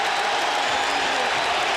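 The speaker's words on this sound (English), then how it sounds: "And they're standing and cheering here in Philadelphia." Basketball crowd in a Philadelphia arena standing and cheering after a steal, a steady dense roar of applause and shouting that holds at full strength throughout without a break.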